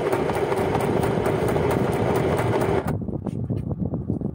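A domestic sewing machine runs with a fast, steady mechanical whir and needle clatter for a few seconds, then the drone drops away, leaving a lighter rhythmic ticking close by.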